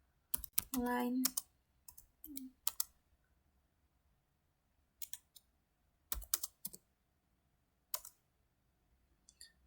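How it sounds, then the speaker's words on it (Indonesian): Typing on a computer keyboard during a network switch configuration lab, with sparse soft clicks in short clusters, quiet and close, alongside a brief spoken word. "kita akan lanjut lagi dengan mengetikkan"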